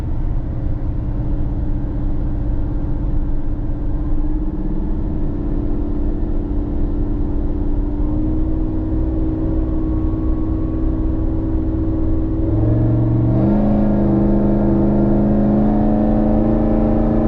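An American Muscle HD Cadillac Escalade ESV rumbles steadily from inside the cabin while driving, with a deep, even engine drone that rises slightly as it speeds up near the end, loud and with no talking.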